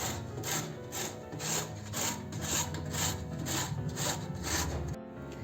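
Tender bamboo shoot rubbed against a hand grater, giving a steady rhythmic scraping of about nine even back-and-forth strokes, close and fairly loud, with no voices.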